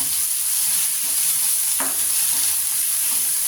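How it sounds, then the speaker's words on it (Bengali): Meat frying with salt in a hot pan, a steady close sizzle with a brief scrape of stirring midway and no voices. "ভালো করে কষে নিচ্ছি"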